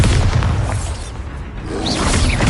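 A booming blast from the Bombarda spell in Hogwarts Legacy, a loud, dense explosion that fills the whole stretch with rumbling low-end roar and debris, easing slightly midway before swelling again.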